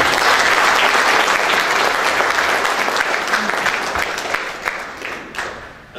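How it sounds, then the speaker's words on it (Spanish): Loud, sustained audience applause fills an award ceremony hall, a dense wash of clapping that holds steady before gradually thinning toward the end. "Los aplausos, por favor."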